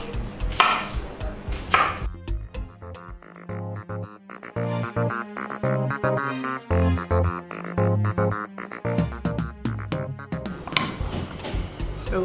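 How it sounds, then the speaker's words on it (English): Scotch bonnet pepper is cut with a knife on a board, a long run of quick, crisp chopping taps in an even rapid rhythm, close and fairly loud. "you're going to cut your scotch bonnet"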